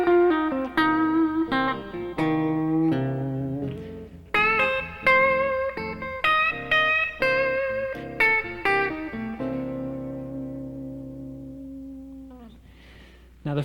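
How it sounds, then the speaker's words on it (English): An electric blues guitar plays several lively single-note licks over the opening bars of a 12-bar blues in C, with clear plucked notes and bends, closing on a long sustained note that fades out, with no talking. "Now I'm going to show you a couple of licks that you can play on the first 4 bars of a 12-bar blues progression."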